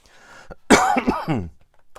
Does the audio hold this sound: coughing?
yes